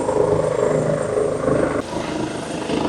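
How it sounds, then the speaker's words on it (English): An ambulance helicopter landing in a field gives a steady, loud rotor and engine drone, constant throughout with a slight drop in level partway through. "we have a helicopter landing in the field behind us"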